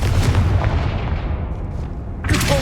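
A Confringo blast spell in Hogwarts Legacy lands as a loud, deep explosive boom that rolls off and decays, followed by a sharp second burst near the end, heard up close without talk.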